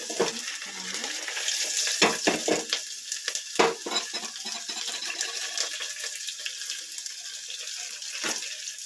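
Onions and curry leaves fry in a hot pan with a steady, bright sizzle, broken by several sharp scraping stirs, most of them in the first few seconds. No one speaks.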